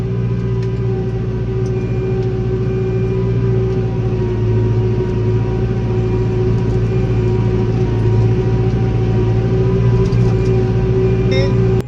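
A New Holland tractor engine labours steadily while ploughing hard, difficult soil, giving a constant loud low drone with a strong steady hum and rumble that holds unbroken for the whole stretch, with no talk over it.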